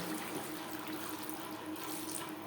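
Water pours steadily into a pan of pointed gourd being cooked with spices, a soft continuous rushing stream heard close and alone.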